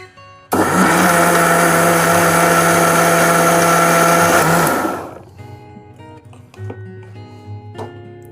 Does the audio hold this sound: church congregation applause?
no